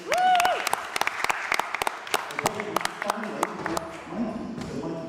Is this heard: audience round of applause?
yes